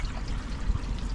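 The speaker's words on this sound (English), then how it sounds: "Start with emptying the black tank." Waste pouring out of an RV black tank during emptying, a steady close gush and trickle of liquid running alone without pause.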